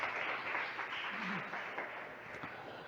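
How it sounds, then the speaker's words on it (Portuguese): A church congregation applauds the pastor, a soft, diffuse patter of clapping that fades gradually, with some murmured voices mixed in. "Aplauda ele, que ele merece."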